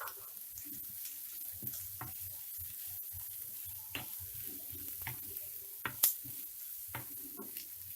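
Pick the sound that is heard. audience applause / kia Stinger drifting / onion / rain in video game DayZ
onion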